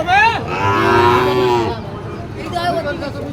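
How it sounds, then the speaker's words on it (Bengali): Sahiwal cattle at a livestock market in Ambari, Dinajpur, let out a loud, close moo that holds for over a second, followed by quieter market murmur. "এটাও কিন্তু বেশ সুন্দর একটি আকর্ষণীয় গরু"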